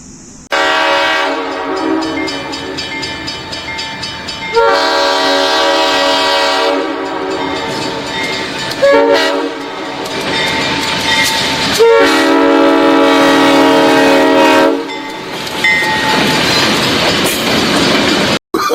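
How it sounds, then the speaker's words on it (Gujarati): A small ride train runs at the Surat botanical garden, loud and close, with a sustained horn-like tonal sound sounding in long stretches over the rumble of the cars and a few abrupt breaks. "મિત્રો તમને બોટનિકલ ગાર્ડન ની રેલગાડી બતાવું. રેલગાડી જોવો તમે."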